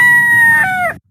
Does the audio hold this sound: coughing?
no